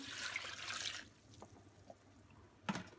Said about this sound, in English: So in goes the vinegar,